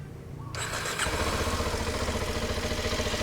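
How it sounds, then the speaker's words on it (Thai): A 2015 Kawasaki Ninja 250SL motorcycle engine, with about 24,888 km on it, cranks and catches, then settles into a steady, throbbing idle close by. "เราไปฟังเสียงเครื่องกันนะครับ"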